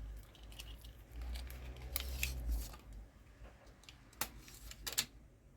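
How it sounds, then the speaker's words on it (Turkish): Quiet snips of scissors cutting crochet yarn on a bag project, a few crisp close cuts with light handling rustle between them and no talk. "ipimi kesiyorum"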